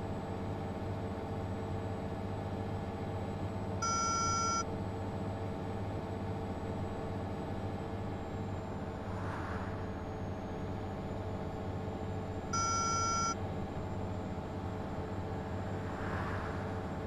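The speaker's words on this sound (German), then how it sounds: "Außer das Gepiepe, das nervt." A bus warning beeper in the OMSI 2 bus simulator game sounds in two short bursts several seconds apart, over a steady low hum of the engine and road noise on a country route.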